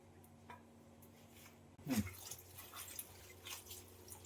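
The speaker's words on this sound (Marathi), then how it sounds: "मेथी आणि जाकवत एकत्रच धुवून घेणार आहे मी" Water splashing and dripping as fenugreek and other leafy greens are rinsed, with a louder swish midway and soft trickles continuing, close by.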